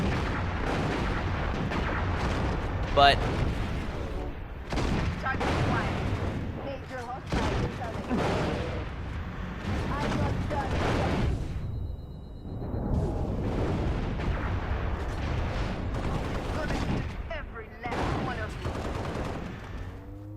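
Weapons fire at Hunters during a Halo Reach video game mission, with repeated bursts of gunfire and blasts coming in heavy clusters and brief pauses, loud and dense, while a voice comments over parts of it.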